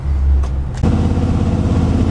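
A Ford F100 truck merging onto a freeway: a loud engine roar with a short shift-like break, then steady, rumbling driving noise up close.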